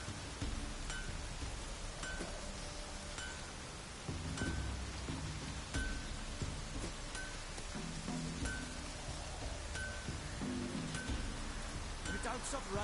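Steady rain falls in a fantasy game world from The Witcher, a dense continuous hiss of drops on surfaces, with faint background murmurs and occasional soft clinks beneath it.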